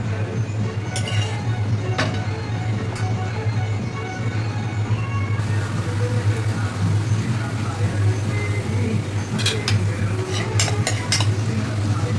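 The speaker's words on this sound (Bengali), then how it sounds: "এটা হচ্ছে প্রনস ফ্রাই হচ্ছে" Prawns frying in a pan give a steady, close sizzle that runs throughout, with scattered metallic clinks of a utensil against the pan.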